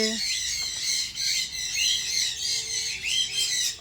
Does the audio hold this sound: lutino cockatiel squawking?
yes